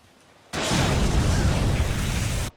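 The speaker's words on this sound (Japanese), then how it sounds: "爆発に備えて。" Explosion in the Naruto Shippuden anime: a sudden, loud, roaring blast of noise that holds steady for about two seconds before cutting off sharply, with no voices over it.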